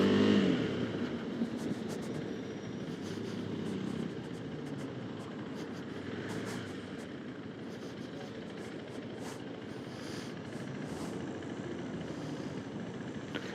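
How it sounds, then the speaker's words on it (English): A KTM 390 Adventure single-cylinder motorcycle being ridden, its engine giving a steady, moderately loud drone with a faint clattery edge, mixed with road and wind noise and no voices. "It has that single cylinder clatter, and you can feel the vibrations in the handlebars for sure."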